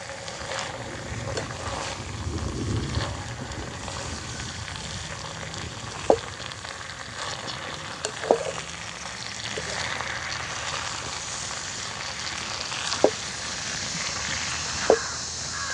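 Curry leaves frying in plenty of hot oil for a homemade curry-leaf thokku give a steady, soft sizzling hiss, with a few sharp pops and crackles breaking through at intervals. There is no talking.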